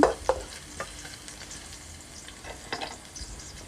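Garlic sizzles in a hot pan for Thai stir-fried pork with egg, a steady crackling hiss with a few sharp spatula scrapes and clinks near the start and again later.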